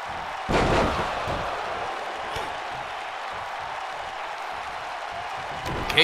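In a professional wrestling match, a single heavy thud of a stunner hitting the ring lands early, followed by a steady, loud crowd roar that carries on throughout.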